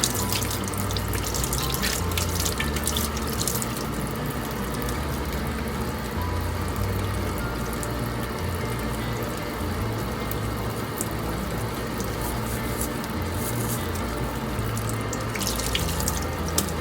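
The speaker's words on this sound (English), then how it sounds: "the water is running pretty clear now." Tap water runs steadily and loudly into a sink while a paintbrush is rinsed under it, a continuous rushing splash with faint drips and no talk.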